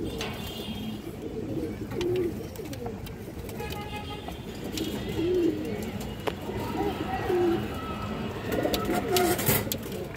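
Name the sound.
pigeons cooing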